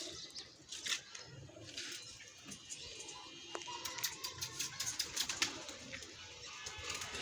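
Pigeons coo softly in a loft, with low repeated murmurs and a few light wing and shuffling noises, all fairly faint against a quiet background.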